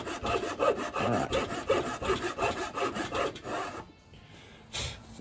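A hand saw cuts fret slots into a wooden guitar fretboard in slow, steady back-and-forth strokes, a close rasping rhythm that stops briefly near the end, with a short spoken word.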